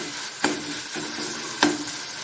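Drumsticks and green chillies sautéing in a pan, with a steady close sizzle broken by two distinct spatula scrapes against the metal, no voices.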